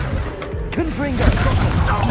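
A Confringo blasting curse goes off in the Hogwarts Legacy video game, a dense, loud burst of booming crashes and clattering combat effects, layered with the game's swirling music and voices throughout.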